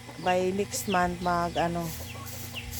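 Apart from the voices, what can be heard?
chickens clucking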